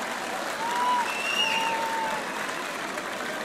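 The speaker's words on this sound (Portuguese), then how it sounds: "Palmas para a marcha dos amigos do Rosário" Steady, moderately distant crowd clapping along a street parade of popular marches at the Santo António festivities, with a faint whistle-like tone drifting over the dense, even patter.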